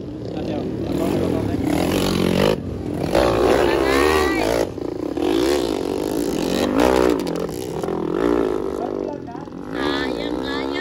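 Underbone motorcycles race in a motocross expert heat, engines revving and rising and falling in pitch over steady crowd noise, with a commentator talking throughout.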